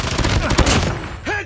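Gunfire in Call of Duty Mobile, a quick loud burst of rapid shots packed into about a second, followed by a short game voice.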